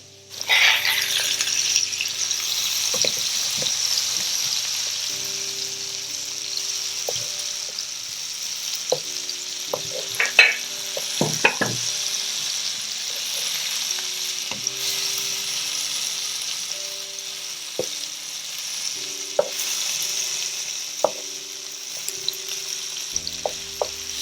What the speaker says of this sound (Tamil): இப்போ நல்லா ஃப்ரை ஆகிடுச்சு பாருங்கள்